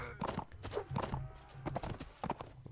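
Horse hooves clip-clop in a rapid, steady rhythm of sharp knocks in the video game Mount and Blade Warband, fairly close and continuous over a low game background.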